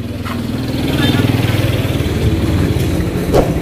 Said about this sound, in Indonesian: Motor.